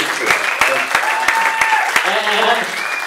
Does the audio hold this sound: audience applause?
yes